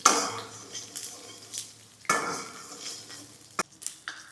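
Thickly cut onions cook in oil in a pan for butter chicken, a soft sizzle broken by several sharp scrapes and clinks of a spoon stirring against the metal.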